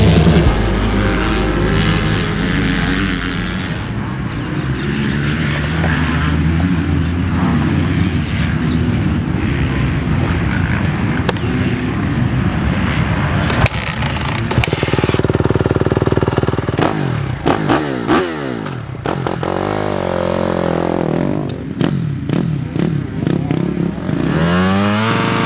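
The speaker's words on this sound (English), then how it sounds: "this is my 2024 RM-Z250 race bike" A 2024 Suzuki RM-Z250 motocross race bike engine at Glen Helen Raceway runs loud and steady throughout, its harmonic whine rising and falling with revs, with sharper throttle blips and shifting pitch toward the end.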